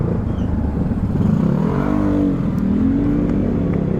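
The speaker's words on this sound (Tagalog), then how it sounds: "Dito dumadaan ang mga tricycle." A motorized tricycle rolls along a narrow side street in Batangas City, its engine nearby and loud, rising in pitch as it revs and passes, with no voices.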